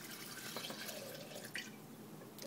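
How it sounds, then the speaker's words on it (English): Water is poured into cooled oil while making a sea buckthorn skin cream, a quiet, continuous trickling and splashing with small drips throughout. "pour the water in"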